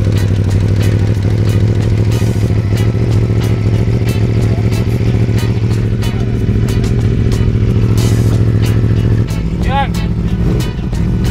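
A motorcycle engine runs close by with a steady, throbbing mid-pitched idle that shifts slightly near the end, while people talk over it.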